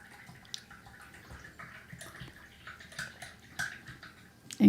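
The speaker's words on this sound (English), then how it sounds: "So I need to wash out this brush." A paintbrush being rinsed in a container of water during acrylic painting, with soft intermittent swishes and drips, faint and close, ending in a louder knock.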